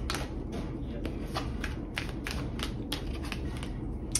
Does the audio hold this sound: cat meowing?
no